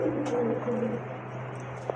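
A snake-eyed pigeon cooing nearby, a few soft low coos in the first second against a faint steady hum, then quieter background.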